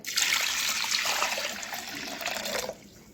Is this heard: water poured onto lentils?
yes